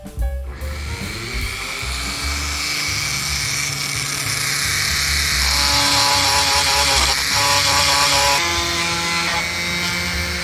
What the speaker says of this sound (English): Now we're going to do this one with the rotary tool.